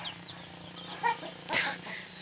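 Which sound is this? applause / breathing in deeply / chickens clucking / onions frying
chickens clucking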